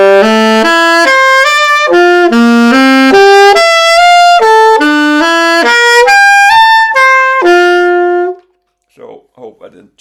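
Bach-style triad arpeggios played legato on a single melodic instrument, clear sustained notes flowing smoothly into one another for about eight seconds, then faint brief speech afterward.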